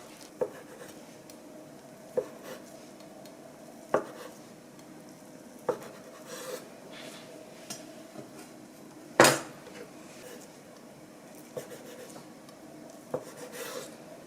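A knife cuts thin Korean egg garnish (jidan) into strips on a cutting board while preparing tteokguk. Soft, evenly spaced taps land roughly every couple of seconds over a quiet kitchen background, with one louder clack midway.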